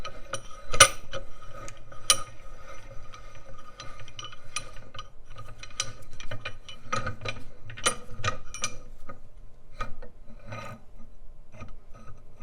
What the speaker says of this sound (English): now we could unscrew the main screw